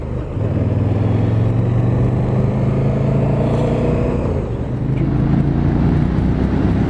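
A KTM 1290 Super Duke R motorcycle from 2018, its engine running with a steady low drone throughout, a slight dip midway before the tone returns, close and loud with no talking.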